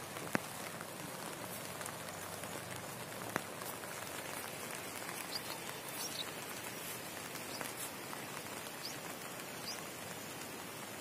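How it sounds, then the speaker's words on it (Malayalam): Steady rain falls at a river boat ferry landing in Kariyathupara, Kakkayam, a soft continuous hiss of drops on surfaces with a few sharper close taps, faint and even, no voices. "മഴ പെയ്യുന്നുണ്ട്"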